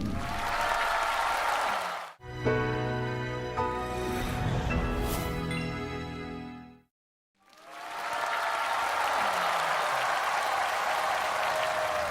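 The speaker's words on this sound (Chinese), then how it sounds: "让我们掌声有请盲盒歌手登场" Studio audience applause at a televised singing show welcoming a mystery singer, a loud sustained burst of clapping that fades out and then returns strongly.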